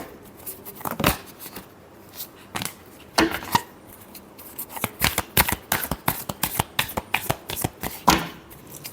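Tarot cards being shuffled by hand, close and crisp, with short riffling bursts followed by a long run of rhythmic card slaps and flutters.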